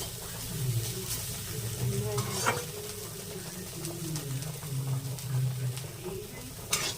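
Neem leaves and eggplant frying in oil as they are stirred in a pan. A steady, moderate sizzle carries scraping stir strokes, with a low voice faintly underneath.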